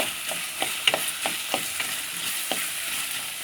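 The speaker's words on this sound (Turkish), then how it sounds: "Ve bulgurlarımı ilave ediyorum. Onlarla da şöyle bir alt üst ediyorum." Bulgur sautés in a pot while a spoon stirs it, with soft scraping strokes coming at irregular intervals over a light sizzle, close and clear.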